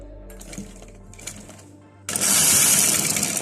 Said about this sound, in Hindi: बिल्कुल बुकरम के साथ साथ आप सिलाई लेकर जाएं